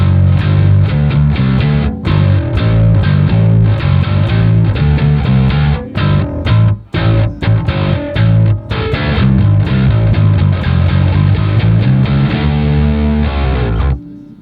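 Bass guitar driven through an Aguilar Aggro distortion pedal, a thick, saturated tone played loud and steady with a few brief pauses between phrases.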